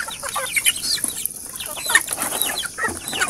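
Native chickens in a backyard farm cluck and chatter in quick, overlapping calls, several birds close by and fairly soft, with no talking.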